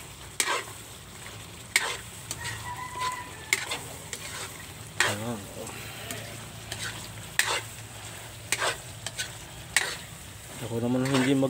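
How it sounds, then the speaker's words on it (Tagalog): Sisig frying in a pan, stirred with repeated sharp scrapes and clinks over a steady close sizzle, with a brief voice near the end. "Halo-haloin lang natin. Haloin lang natin yan."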